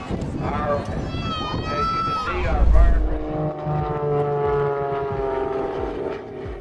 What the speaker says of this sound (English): Biplane crashed while performing at the air show in Cameron, Missouri